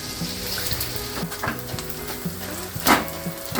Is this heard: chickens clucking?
no